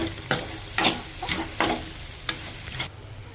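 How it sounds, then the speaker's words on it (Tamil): Cabbage poriyal being stirred in a pan with roasted coconut mixed in, in a traditional marriage style: six distinct scraping stirs at an uneven pace over a soft, steady sizzle, close by, with no talking. "ஆல்ரெடி வறுத்து வச்சுருக்க தேங்காய் இதெல்லாம் போட்டு அதை மிக்ஸ் பண்ணிக்கோங்க"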